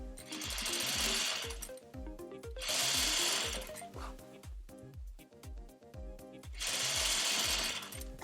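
A sewing machine stitches a zipper onto a dress in fast, rhythmic mechanical clatter, running in steady bursts with brief slowdowns between them.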